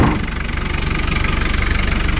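A 1988 Land Rover Defender 90 turbo engine runs steadily close by, with a low, even diesel-like knock and a continuous idle rumble, no talking.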